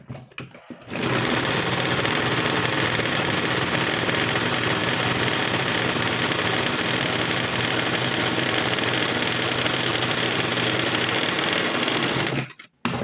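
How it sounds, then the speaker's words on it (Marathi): An electric sewing machine runs steadily, stitching a hem along a 2-inch fabric strip folded half an inch on one side for a tucked blouse, loud and continuous after a brief start, with a short stop near the end. "2 इंचाची पट्टी घेतली आहे, तिला एक बाजूने अर्धा इंचा फोल्ड करून टिप मारून घेऊ"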